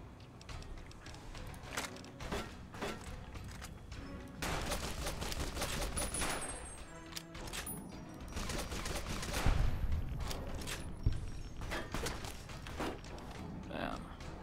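Dense gunfire in the game Fallout: New Vegas, rapid overlapping shots and bursts hitting the player character, continuous through the stretch with mechanical clatter, while someone talks over it.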